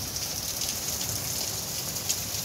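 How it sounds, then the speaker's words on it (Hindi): Heavy rain pours down outside in a steady, dense hiss, loud and unbroken throughout with no voices. "बड़े ज़ोर की बारिश लगी है,"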